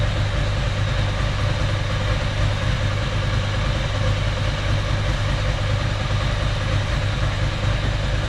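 A Ducati SS or Monster with Mikuni carburettors idles steadily during idle mixture screw adjustment: a loud, even, low mechanical drone that holds constant throughout with no revving.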